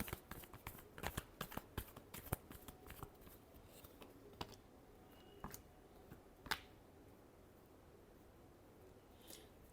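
Tarot cards shuffled by hand in a final shuffle: a quick run of crisp snapping riffles and flicks, dense at first and then sparser, close and fairly quiet, with no voices.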